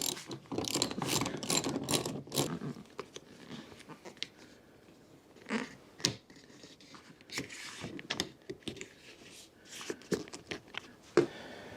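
Spanner work while fitting a wind deflector to a Jaguar XK8: a string of sharp ratcheting clicks and metallic ticks, dense at first and then sparser and intermittent, close and moderately loud with no talk.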